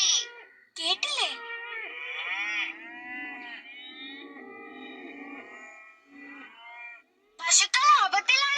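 Cartoon cows give a few sustained, wavering moos at moderate volume, one drawn-out call stretching across several seconds before a short pause and a higher, sharper burst at the end.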